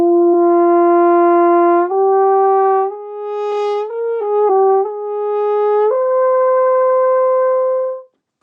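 A brassy horn played without valves plays a slow line of sustained notes that step up and down, ending on a long held tone that cuts off.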